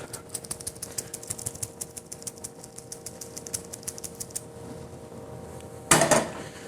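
Egg being loosened in a pan for an omelet, a steady run of light metallic scraping taps from a utensil against the pan, fairly close, ending in a louder clattering scrape.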